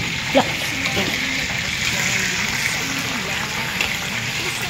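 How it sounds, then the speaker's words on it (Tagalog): Oil sizzles and crackles steadily as chicken fries in a pan over high flame, a continuous hiss with small pops, close by and without speech. "nagluto-prito tayo ng manok"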